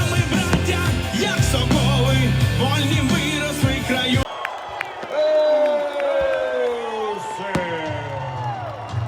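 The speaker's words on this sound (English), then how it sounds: "And a round of applause." Crowd noise at a live boxing event at the Pyramids of Giza, loud cheering and yelling for several seconds that cuts to a quieter stretch of voices and background music.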